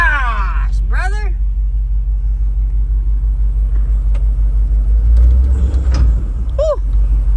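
A sketchy straight-axle mud truck idles in drive with a loud, steady low engine rumble. Excited voices talk and whoop over it throughout.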